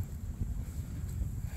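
Strong wind roars steadily across the microphone on a backcountry Colorado hiking trail, a dense low rumble with constant buffeting gusts and no one speaking.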